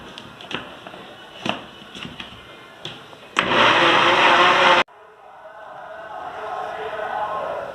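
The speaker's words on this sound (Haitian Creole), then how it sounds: "On va quitter les blender pour 5 minutes." An electric blender mixing carrot cake batter runs in a loud, harsh burst of about a second and a half. The whir cuts off abruptly and leaves a quieter hum, and a few sharp knocks come before it starts.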